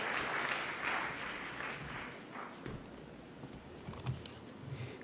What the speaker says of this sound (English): Can we have a huge round of applause for CS Ashish Karodia